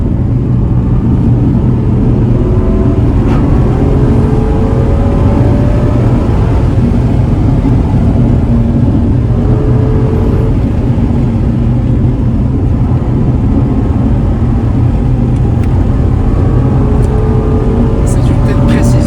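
An AMG GTC or Aston Martin Vantage N430 sports car engine revs high on mountain roads, climbing in pitch in repeated rising pulls, heard from inside the car under steady cabin drone, with people talking over it.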